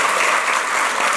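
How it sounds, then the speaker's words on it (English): Sustained applause from an event audience at a book review launch, a dense steady wash of clapping hands with no pauses throughout. "maybe we should applaud to these wonderful remarks and stories to our two legends"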